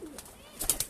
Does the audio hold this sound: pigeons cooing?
yes